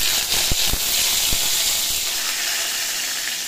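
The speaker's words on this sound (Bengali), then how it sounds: "কড়াই গরম করে একটু তেল দিয়েছি, পাতা আর কয়েকটা জিরে দিয়ে দেয়" Cumin seeds and leaves drop into hot oil in a kadai wok while bottle gourd is being cooked, giving a loud, steady sizzling hiss. A few sharp crackling pops come early, then the hiss eases slightly, with no talk.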